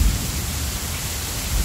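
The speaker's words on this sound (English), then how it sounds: "And you can hear the thunder." Steady tropical rainstorm with a low, continuous rumble of thunder beneath heavy pouring rain, loud and close, a broadband roar with no voices.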